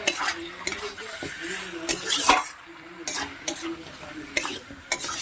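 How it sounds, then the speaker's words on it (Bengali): Meat fries with a paste of seven ground green chilies while a spoon stirs and scrapes it around the pot, with repeated metallic clanks and scrapes over a sizzling background. "দিয়ে ভালো করে মাংসের সঙ্গে মিশিয়ে কষাতে হবে ভালো করে কষিয়ে নিচ্ছি দেখো"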